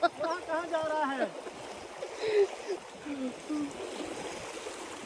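Fast-flowing floodwater rushes and splashes in a steady wash around people stranded in the water on a road trip, with voices talking over it near the start.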